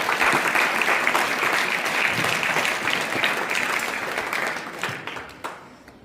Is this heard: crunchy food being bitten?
no